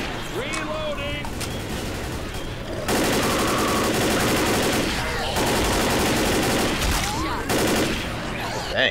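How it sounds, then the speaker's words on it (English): Automatic weapon fire in the zombie shooter Left 4 Dead, Dead Air campaign, with a gas can shot: dense sustained bursts of loud gunfire in several long stretches, broken by brief gaps with scattered game noise and faint voices. "Shooting the gas can was kind of pointless, but I did it anyway."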